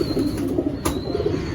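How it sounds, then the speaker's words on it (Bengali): A brief burst of pigeon cooing at a pigeon market, low throaty pulses repeating quickly against steady crowd noise. "এই একটা মালবাহী পায়রা আছে"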